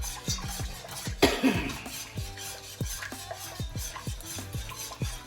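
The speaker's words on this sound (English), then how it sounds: "okay, you gotta keep stirring" Spoon stirring a dark roux in a pot for seafood, sausage and chicken gumbo, with steady rhythmic scraping strokes over a faint sizzle, close and fairly loud.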